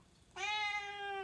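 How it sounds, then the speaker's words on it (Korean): A single clear cat meow, a drawn-out tonal call that starts abruptly and holds steady for about a second, close and alone against a quiet room. "고양이 중에서도 완전 개냥이인 고양이거든요"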